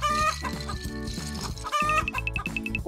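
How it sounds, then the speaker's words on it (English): A rooster clucks and crows over a loud, bouncy music bed, its calls short and repeated through a busy cartoon-style soundtrack. "A rooster?"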